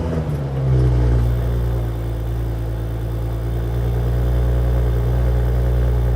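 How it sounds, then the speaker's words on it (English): An Audi S4 with a 349-horsepower V6 runs with a steady, deep engine drone, rising slightly in the first second and then holding a constant near idle-like hum with no talking. "powered by a 349 horsepower V6 engine"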